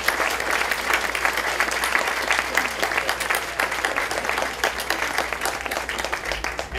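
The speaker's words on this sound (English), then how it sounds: "Let's give them a round of applause as they come up here." An audience at a city State of the City event applauds decoration award winners as they come up to the stage. The clapping is steady and sustained for about seven seconds, with no speech over it.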